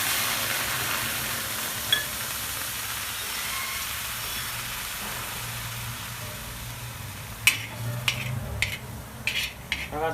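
Salt water sizzling and hissing steadily on peanuts roasting in a pan, a constant soft sizzle with a few sharp utensil clinks near the end.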